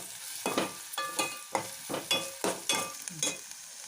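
Paneer cubes with a pinch of salt fry in a pan while being stirred; about eight soft scraping, sizzling strokes come in a steady rhythm, close up, with no one speaking.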